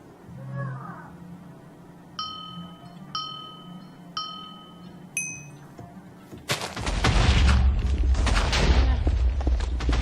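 Minecraft TNT detonating and breaking blocks, preceded by a few short chiming game tones, then a loud sustained roaring blast filling the last few seconds, with a voice talking early on.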